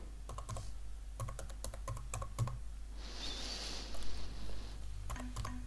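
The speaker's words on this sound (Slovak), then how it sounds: "Do poľa e-mailová adresa napíšem mailovú adresu" Fingers type an email address on a computer keyboard in short bursts of quick close clicks, separated by pauses and a soft hiss, with no voices.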